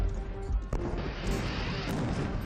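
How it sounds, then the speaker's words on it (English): French cannon bombard British defenses at Yorktown, a rumbling barrage of heavy booms with a couple of sharper reports over a continuous low roar, loud and fairly close. "The French cannon pound the British defenses day and night"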